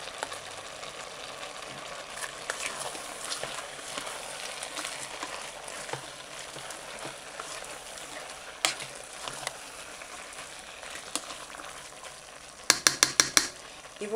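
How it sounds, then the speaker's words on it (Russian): A spoon scrapes and stirs through a pot of vegetable stew with soft sloshing and a gentle simmer, ending in a few quick clinks against the rim. "Все перемешиваем."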